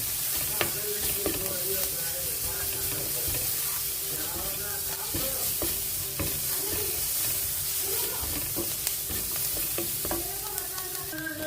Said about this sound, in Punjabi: ਹੁਣ ਇਹਨਾਂ ਨੂੰ ਮਿਕਸ ਕਰ ਲੈਂਦੇ ਆ